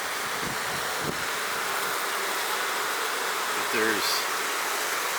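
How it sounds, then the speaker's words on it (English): A steady, dense hum of many bees buzzing fills the air, with a brief spoken word partway through. "that's a ton of bees right there."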